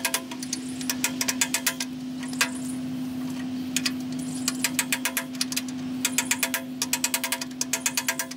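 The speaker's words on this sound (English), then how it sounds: "I'll get a socket and a hammer and tap that on there a little further." A hammer tapping a socket onto a hood part for a 1964 Ford 4000 tractor, rapid metallic clinks in quick clustered bursts close by over a constant low hum, with no talk.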